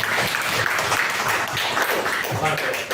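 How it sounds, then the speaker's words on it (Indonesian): An audience applauds in a hall during a teacher training event in Indonesia, the clapping dense and fairly close, continuing steadily over a few seconds with voices mixed in. "Kita beri tepuk tangan untuk kita semua."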